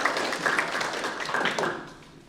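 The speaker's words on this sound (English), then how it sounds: "Oh, clapping." Audience applause at an author event, a fairly close, dense patter of many hands clapping together that holds steady and then tapers off toward the end, with no talking over it.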